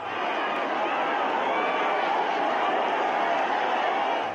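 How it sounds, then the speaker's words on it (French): A crowd rushes in as the gates open at a Nigerian presidential and legislative election polling site, a dense continuous roar of many voices and movement, loud and steady throughout. "Lorsque les grilles s'ouvrent, la foule se rue."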